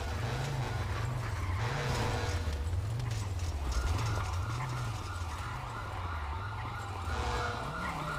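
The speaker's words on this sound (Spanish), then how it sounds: "¿Es un caballo, tío?" Horse hooves clip-clop in the GTA V video game, a steady loud trotting rhythm heard alongside a wailing emergency siren that rises and falls throughout, with no talk.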